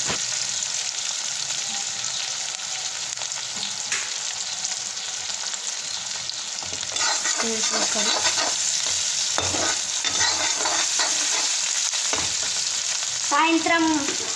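Fried rice sizzles and is stirred in a pan over a high flame, with steady loud frying hiss throughout and intermittent scraping of the spatula building up in the second half.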